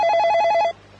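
A telephone rings for an incoming call with a rapid, trilling electronic bell, loud and near, pulsing quickly for under a second before cutting off abruptly.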